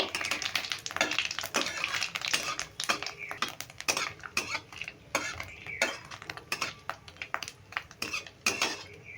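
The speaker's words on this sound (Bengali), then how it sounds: "এবার ফোড়নটা খুব ভালো করে নেড়ে ভেজে নেব" Whole cumin seeds and a bay leaf are tossed and fried in hot oil for an egg tadka, with a spoon scraping and clinking steadily against the pan and a soft sizzle running underneath, close and fairly loud.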